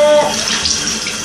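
Running tap water pours steadily into a sink while a baby doll is wet and washed, a loud close splash with no talking.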